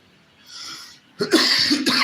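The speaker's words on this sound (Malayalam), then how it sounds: "ചുമ വിളിച്ചിട്ട് എനിക്ക് രക്ഷയില്ല കേട്ടോ" A person coughs hard several times in quick succession, close and loud, after a brief softer breathy sound; no talking alongside.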